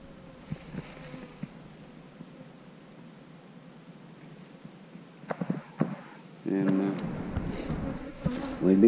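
Steady insect buzzing of many bees around an 8-frame hive drones throughout, near and continuous, with a few brief knocks and louder rustling toward the end.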